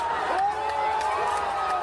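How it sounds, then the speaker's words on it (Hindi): Crowd of protesters chanting slogans while advancing, a dense, continuous roar of many voices with a rising, sustained chant, heard close and loud throughout. "वो भी नारे लगाते हुए आगे बढ़ गई।"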